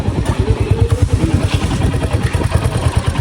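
A Royal Enfield Continental GT 650 with an engine problem runs close by, a steady, loud, rapid thumping pulse with a clattery edge and no one talking over it.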